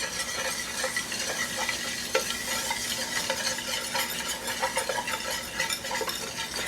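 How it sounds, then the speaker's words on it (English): Butter and flour are whisked together in a pan for a cream sauce, with a constant sizzle under rapid, rhythmic metal whisk scraping and clinks, close and clear, no talking. "For our sauce, we are going to use butter and equal parts flour. Going to come in with our whisk."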